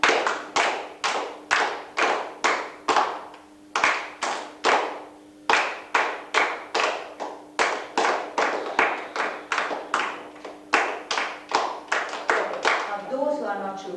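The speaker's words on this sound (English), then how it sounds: "Clap, just clapping." A workshop group claps hands together in a steady rhythm, sharp close claps in quick repeated bursts with brief pauses between phrases, and a voice briefly speaking near the end.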